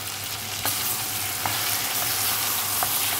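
Food frying in a pot on the stove, a steady crackling sizzle with a few louder scraping clicks from stirring, close by with no talking.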